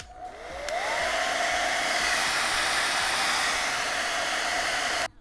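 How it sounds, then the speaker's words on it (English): A hair dryer switched on and blowing onto a face, a loud steady rushing whoosh that spins up quickly, holds for several seconds, then cuts off abruptly, close to the microphone with no talking. "I'm gonna blow dry my face"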